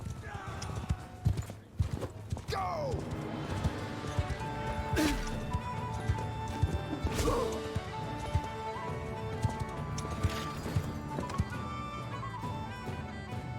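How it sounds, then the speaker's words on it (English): Cavalry horses galloping in a charge in Mount & Blade Bannerlord, a continuous drumming of many hooves with neighs, clashing impacts and battle music, while a voice shouts briefly over the fray. "I'll let the horses run the rest down."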